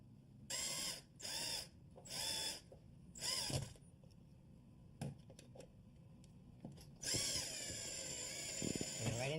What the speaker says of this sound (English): We'll put the screw right on the end of the tip of the screw gun